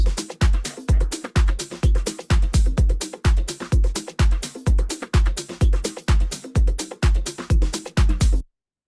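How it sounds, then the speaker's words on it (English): A punchy drum loop with booming kicks and crisp hits trading back and forth in a steady, repeating groove, played loud with no voices. "And now we've got that call and response going in the drums."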